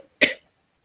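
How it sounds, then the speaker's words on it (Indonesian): A teacher gives a single short, close cough in a quiet classroom setting, alone with no talk around it. "Bulan agak batuk."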